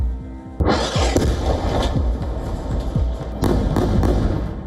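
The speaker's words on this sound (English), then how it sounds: "Then another explosion." Explosions during the war in the Gaza Strip: a sudden heavy blast opens into a long rumbling roar with repeated thuds, followed by a second burst of booms near the end, loud and close with no voices.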